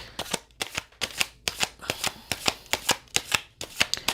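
Tarot cards are being shuffled, a close, crisp run of sharp riffling snaps that repeats at an even, quick rhythm for several seconds with no voices.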